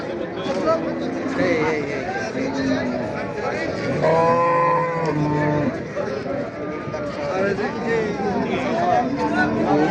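Dairy cows with calves at the Sonaichandi cattle market, a few moos rising over a steady crowd hubbub, with people talking close by throughout.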